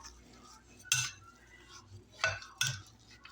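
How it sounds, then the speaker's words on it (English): Meatball mixture with egg being mixed in a bowl, a few sharp utensil clinks and scrapes against the bowl spaced over a few seconds, close and fairly quiet, without talking. "You just start mixing it all together."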